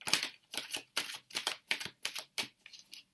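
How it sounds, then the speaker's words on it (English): Tarot cards riffling and flicking in repeated bursts, close and fairly quiet, with a few brief pauses between shuffles. "I'm trying to shuffle these cards."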